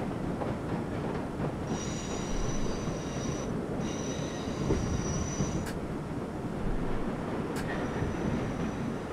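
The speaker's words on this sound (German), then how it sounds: "Jetzt können wir wieder warten, bis der ganze Zug drüber ist." Subway train in the World of Subways simulation game passing over track at moderate distance: a continuous rolling rumble with intermittent high wheel squeals and a couple of sharp clicks, with no voices.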